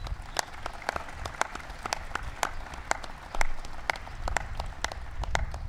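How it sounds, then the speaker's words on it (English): Audience at a White House ceremony honoring a NASCAR champion breaks into sustained applause, a dense steady patter of many hands clapping with a few sharper individual claps standing out. "so give Paul a big round of applause"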